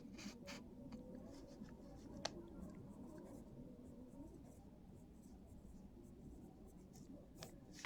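Pen writing on paper during a Class 10 maths lesson, soft close scratching strokes in short bursts with a few sharper taps, faint under quiet room noise.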